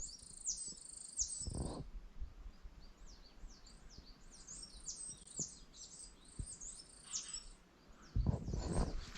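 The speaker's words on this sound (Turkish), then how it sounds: "Şu kuşun ötüşünü çekmek istedim size." A bird sings repeated short chirping phrases in a quiet forest, fairly distant, with a few faint rustles and thumps nearby.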